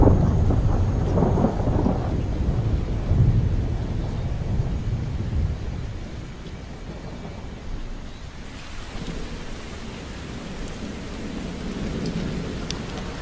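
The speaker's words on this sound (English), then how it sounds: "At the height of the wet season, it rains almost every day." Wet-season thunderstorm with heavy rain pouring steadily on surfaces and deep rolls of thunder early on, the downpour easing slightly and continuing as a dense hiss.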